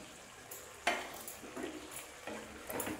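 Garam masala and kasuri methi being stirred into a palak matar (spinach and pea) curry, with a few soft scraping strokes of a spoon against the pot and a faint simmer, heard close and quiet.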